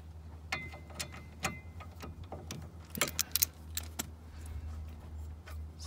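A 13 mm wrench works the brake caliper bolts on an R56 Mini Cooper S, giving a string of sharp metallic clicks and clinks at irregular intervals, clustered in the middle, over a quiet low hum.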